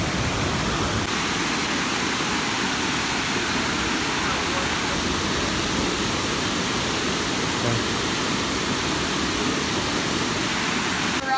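Waterfall roaring outdoors, a loud, steady broadband rush of falling water that never lets up, with faint voices beneath it.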